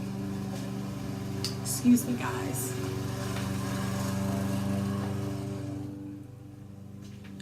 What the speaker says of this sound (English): my husband is mowing the lawn